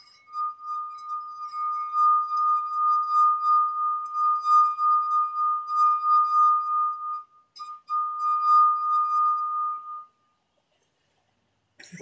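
A finger rubbing the rim of a water glass draws out a pure, sustained singing tone. It holds steady for about ten seconds, wavers briefly once, then stops, leaving silence.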